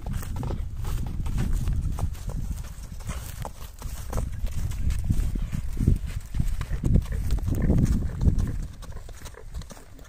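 A vaquejada horse trots on a dirt track, its hooves giving a steady, muffled clip-clop at close range alongside low rumbling.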